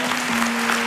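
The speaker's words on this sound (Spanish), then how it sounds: "Un fuerte aplauso para Nora" Television talent show audition audience applauding in a steady, dense wash of clapping, with a sustained musical tone held beneath it.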